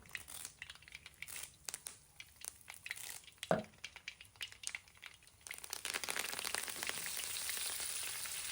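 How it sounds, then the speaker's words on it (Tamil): Sambar masala spices crackle and sizzle in hot oil with scattered pops, growing into a denser, louder steady sizzle toward the end. "சாம்பாரில் சாம்பார் மசாலா பொரிய வறுக்கும்போது"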